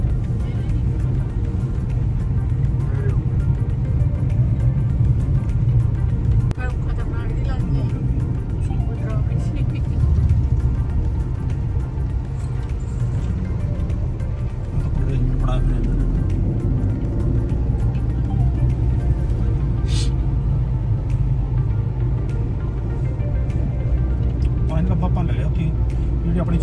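A car drives along a hill road in Himachal Pradesh, its engine and road noise a steady low rumble throughout, with people talking over it.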